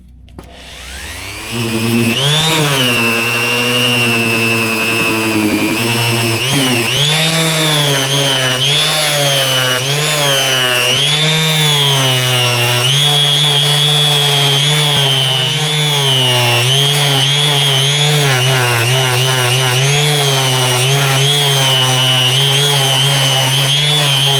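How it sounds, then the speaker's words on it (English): A random orbital sander fitted with 240-grit paper works over a motorcycle engine cover, a loud, steady, continuous whir with slight wavering pitch, running alone close up for the whole stretch. "random orbital. And I'm just going over it with a bit of 240."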